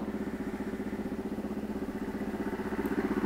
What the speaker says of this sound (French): Je démarre la moto, là je mets le starter.